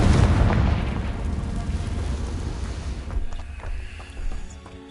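A Confringo blasting curse explosion in Hogwarts Legacy, a loud booming blast at the start that rolls into a rumbling decay, with smaller pops and crackles trailing after it.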